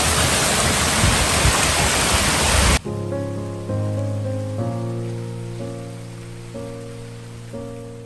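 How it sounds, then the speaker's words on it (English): A French- and Italian-inspired garden water fountain gives a loud, steady rush of splashing water for about three seconds, then cuts off abruptly and music plays. "French and Italian inspired water fountain."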